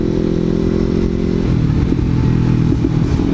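Close, loud motorcycle engine running steadily under load, with the pitch dipping and shifting around the middle as a gear change is attempted on a new bike, with faint clatter over the drone.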